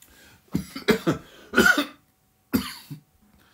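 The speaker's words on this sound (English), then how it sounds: "Had a wee coughing fit there." A person coughs several times in quick harsh bursts, pauses briefly, then lets out one more cough, close and loud.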